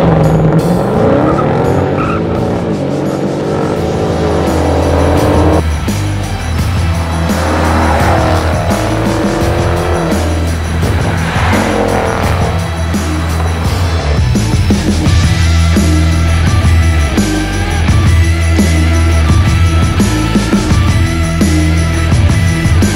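A Ford Mustang GT convertible and a Dodge Challenger 392 Scat Pack launch hard, loud engines roaring up through the gears with tire squeal, sustained and close with no talking.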